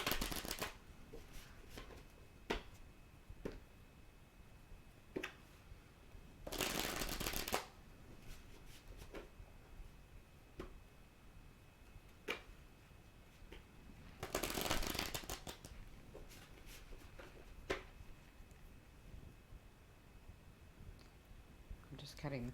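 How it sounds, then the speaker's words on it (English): Tarot cards are shuffled by hand, with repeated soft riffling bursts and scattered light clicks and taps of the deck at close range in a quiet room. "let me shuffle these cards very quickly. I'd already shuffled them before, but I'll shuffle them again."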